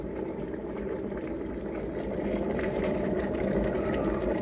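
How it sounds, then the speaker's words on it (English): Water heating to a boil and turning to steam, a steady dense bubbling roar with a low rumble that grows slightly louder partway through, continuous and close with no talking. "So when the water is heated, it turns into steam."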